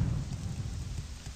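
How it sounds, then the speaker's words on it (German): Steady rain with low thunder rumbling through a thunderstorm in the video game The Elder Scrolls III: Morrowind, a continuous soft wash of rainfall at moderate distance with no voices. "Und es gewittert."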